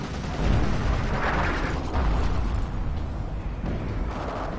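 A tank shell explodes in the multiplayer game Forgotten Hope 2 on the Sidi Rezegh battlefield, a sustained heavy rumble and boom rolling on for several seconds amid ongoing combat noise, loud and close, with no talk.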